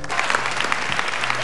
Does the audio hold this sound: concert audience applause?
yes